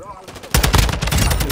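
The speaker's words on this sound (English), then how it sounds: "I was shooting the guy" Rapid automatic gunfire from Call of Duty: Modern Warfare 2 erupts loud and dense after a quiet half-second, bursts packed close together in a multiplayer match.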